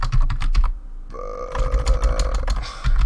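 Rapid typing on a computer keyboard while entering an entity name in the Portal 2 Hammer editor, with close, crisp key clicks in quick bursts, a brief pause, and a faint tonal hum beneath.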